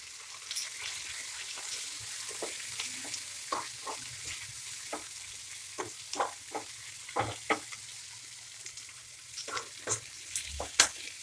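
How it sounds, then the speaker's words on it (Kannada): Curry leaves and spices fry in oil in a pan for a lady's finger kurma, giving a quiet steady sizzle broken by repeated sharp crackles and pops scattered throughout. "ಸ್ವಲ್ಪ ಕರಿಬೇವಿನ ಸೊಪ್ಪು ಹಾಕ್ಕೊತಿದ್ದೀನಿ"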